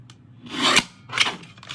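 A paper trimmer slices a thin sliver off cardstock with two close, dry rasping strokes, the second shorter than the first, heard alone with no talk.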